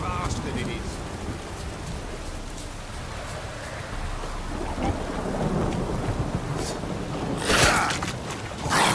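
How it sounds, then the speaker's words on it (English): Heavy rain pours steadily with rolling thunder in the video game The Witcher 3, a continuous hiss of downpour with low rumbles and a sharper burst near the end, under brief talk. "This downpour's a bastard"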